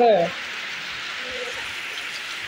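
Rain pours down on a village during the rainy season, a steady even hiss that fills the whole stretch. A brief voice is heard at the very start.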